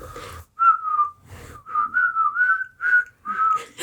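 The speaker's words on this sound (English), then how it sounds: "I start whistling." A person whistles a lilting, wavering tune in a tabletop role-playing game session, several sustained phrases separated by short pauses, close and clear with soft breathy noises between notes.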